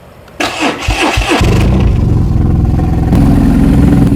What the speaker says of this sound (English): we're good to start the motorcycle and get some oil flowing